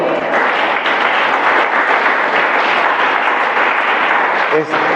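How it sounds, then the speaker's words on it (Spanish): A church congregation applauds together in a sustained, loud wash of clapping that holds steady throughout, with no voices standing out above it. "¿Puede dar un aplauso al Señor?"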